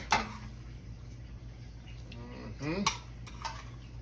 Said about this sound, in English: Ladle this bad boy on there.